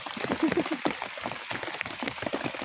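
Heavy rain pours down outdoors on a mountainside banana planting spot, a dense close patter and splatter that stays constant throughout.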